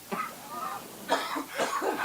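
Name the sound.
person coughing after laughing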